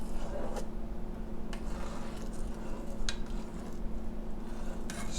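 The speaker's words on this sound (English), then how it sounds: "Stirring it up." Rit dye is stirred in a container for dyeing a brown G10 knife handle black. Soft swishing sits over a low steady hum, broken by a few sharp clinks against the container's side.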